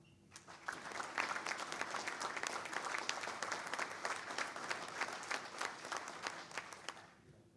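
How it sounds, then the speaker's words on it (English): Applause for top-ranked students of the class of 2021 at a school board meeting, a broad, even wash of many hands clapping, moderately distant and continuous before stopping abruptly. "A round of applause for all of them"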